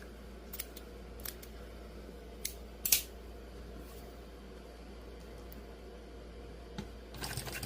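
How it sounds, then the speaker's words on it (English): Scissors snip through threads on thin layered vinyl at an industrial Singer 291U1 sewing machine, a few quiet, sharp clicks scattered over a low steady hum, with one brighter cut near the middle. "I'm going to go on a diagonal here and cut some of these threads"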